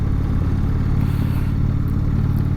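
Indian Roadmaster motorcycle pulling away under load from low revs, a loud, steady, deep engine rumble close to the rider, continuous throughout with no speech.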